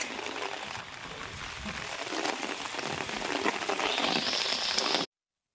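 Heavy rain pouring down steadily in an outdoor seaside town setting, a dense, loud continuous roar of drops on surfaces that builds slightly before cutting off abruptly.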